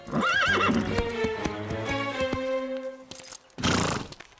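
Cartoon horse sound effects: a loud, clear whinny opening the sequence, followed by a run of sharp hoof clip-clops on hard ground and a burst of snorting or rustling noise at the end, with no talk.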